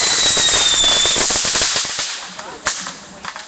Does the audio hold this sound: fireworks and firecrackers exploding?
yes